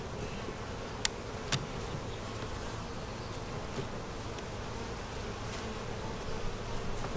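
Honeybees buzz steadily around an opened double deep eight-frame hive, a dense continuous hum close by with a few sharp clicks and no talking.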